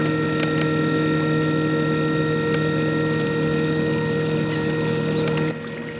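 Pacmotor kayak motors running on open water, a steady droning hum with a faint whine on top, continuous and close throughout, with light water noise.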